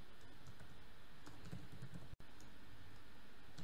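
Quiet, steady typing on a computer keyboard while writing code, with soft clustered key clicks over a constant hum and no talking.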